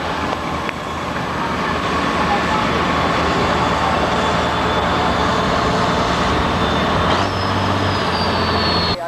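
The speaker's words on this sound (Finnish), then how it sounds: "Täysiveto, ei siinä mitään, 3000 hevosvoimaa, 27 litraa Allisonin kone" A 3000 hp pulling tractor with a 27-litre Allison engine roars continuously and loudly at a tractor pulling event, a dense mechanical drone with a rising whine near the end and no talk.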